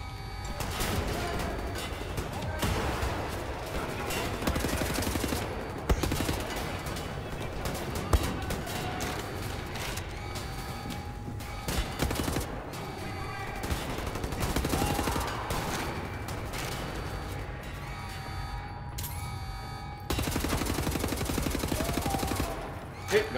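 Shotgun fire in Wolfenstein: The New Order, repeated heavy blasts at irregular intervals amid a dense, noisy combat soundscape, loud and close.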